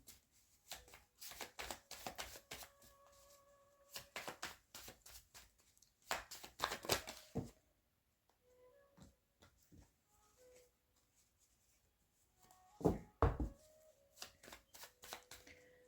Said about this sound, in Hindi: एक और निकाल लेते हैं यहाँ पे कार्ड।